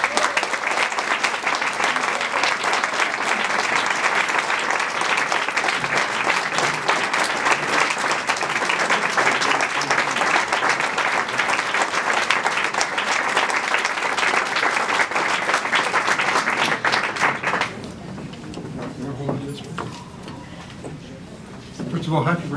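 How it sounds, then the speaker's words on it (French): A large audience at a formal tribute speech event applauds warmly with dense, sustained clapping for nearly twenty seconds, then it thins to scattered claps and quiet murmurs near the end. "Je vous invite à vous joindre à moi pour reconnaître et applaudir chaleureusement"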